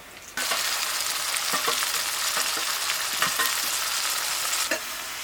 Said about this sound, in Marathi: आता कांदा भाजत आलाय याच्यात आता टमाटर टाकतो